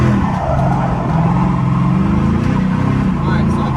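Flood-damaged Ford Mustang drifting in circles, a loud close engine roar with tire noise, steady and continuous, with a voice talking over it.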